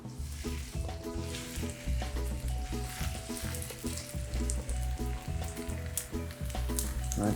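Brown oyster mushroom steaks fry stem side down in a pan, a steady crackling sizzle with popping spatter, heard under background music.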